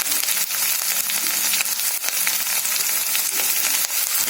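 Chopped garlic and green chili frying in hot oil, a loud, dense, unbroken sizzle with faint crackles running throughout, close up and without speech.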